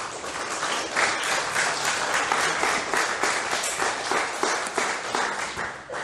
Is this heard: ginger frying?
no